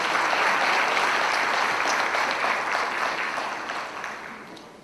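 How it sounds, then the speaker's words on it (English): Sustained applause from a crowd at a wedding reception, dense clapping that holds steady and then gradually fades toward the end. "Let's give another round of applause for Neely's dad, please."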